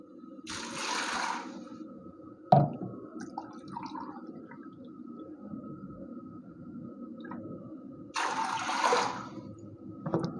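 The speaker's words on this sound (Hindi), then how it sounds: "दो कप पानी के शामिल करेंगे।" Water is poured into a pressure cooker holding washed red beans (lobia) in two short splashing bursts, one near the start and one near the end, with a steady low hum and a single clunk in between.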